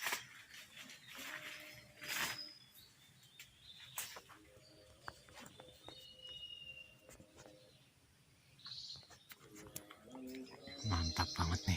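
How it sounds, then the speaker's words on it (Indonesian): A gentolang bird stuck on bird lime gives short, scattered calls outdoors, with a few sharp bursts and rustling noises between them. "burung gentolang kena pulut guys."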